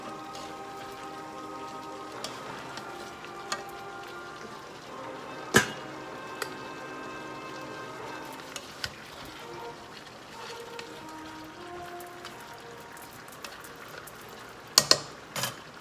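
Pork spareribs with black beans simmering in a pan, a steady soft bubbling and popping with scattered small crackles and a few sharper clicks, close and fairly quiet, with no one talking.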